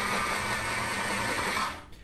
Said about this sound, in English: Pencil sharpener.